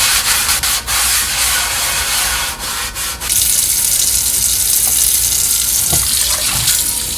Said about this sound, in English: All you guys need to do is get like a sponge to actually clean it.